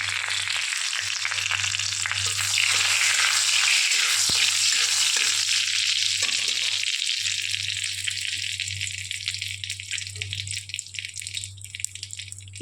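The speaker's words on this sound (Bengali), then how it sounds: "কড়ার মধ্যে একটু ঘি, একটু তেজপাতা, একটু জিরে ফোড়ন দিয়ে নেবো" Ghee sizzles in a kadai as bay leaf and cumin seeds are tempered, a bright continuous hiss with light crackling and spitting, close up and with no one talking.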